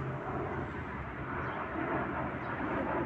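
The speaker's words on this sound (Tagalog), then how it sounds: "Ang aeroplano guys, ang init sana ron." An airplane passing overhead makes a steady broadband roar, moderately loud and unchanging through the short stretch, with no voices over it.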